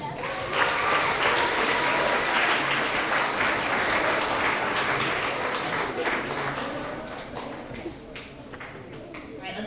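Loud, sustained applause from a school award assembly audience honoring young readers, dense clapping filling the room and slowly thinning toward the end, with scattered voices mixed in.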